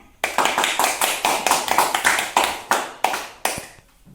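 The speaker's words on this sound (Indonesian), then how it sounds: "Beri tepuk tangan." Schoolchildren in a third-grade classroom give a round of rhythmic, patterned applause. About a dozen sharp, close claps come in a quick beat, slowing and spacing out toward the end.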